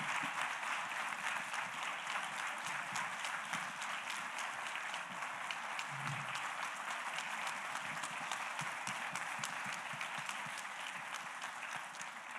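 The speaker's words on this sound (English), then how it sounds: "can we give a round of applause to our panel?" An audience claps for a panel on anti-drag laws at the end of a session, a steady dense applause that holds throughout and tapers slightly near the end.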